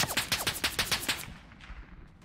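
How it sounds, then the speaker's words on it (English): A machine gun firing in the World War I shooter game Tannenberg: a rapid, loud burst of close shots that cuts off after about a second, leaving faint echoes. "Oh boy, oh boy, machine gun."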